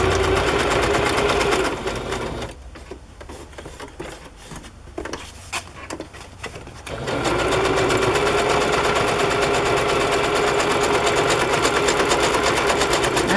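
A sewing machine stitches a fabric journal cover, a loud, rapid mechanical whir that stops for several seconds, with only scattered small clicks, before running steadily again at full speed.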